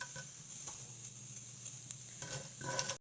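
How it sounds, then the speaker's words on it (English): Cumin seeds (jeera) sizzling in hot oil in a pan, a quiet, steady crackling hiss with brief stirring scrapes and a louder burst of sizzle toward the end, no talking. "Now heat some oil on the pan, and first of all put some cumin seeds"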